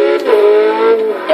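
A Porsche 918 Spyder drives in the Forza Motorsport 6 video game, its engine revving loud and close in one short burst with a rising and falling whine.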